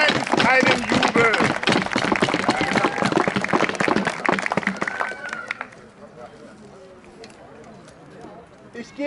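An arena crowd at a gladiator battle event applauds and cheers loudly with dense rapid clapping, then fades to quieter murmuring and scattered sounds in the second half.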